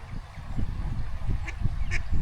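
Ducks quacking on a Scottish loch beside a small floating duck house just after rain, several short nasal calls scattered over a steady outdoor rumble of wind or water, fairly close and moderately loud.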